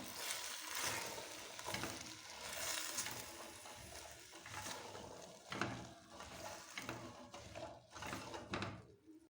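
Fava beans frying with tomatoes and garlic while being stirred in a pan, a faint, rolling sizzle broken by soft scraping strokes and a few light knocks.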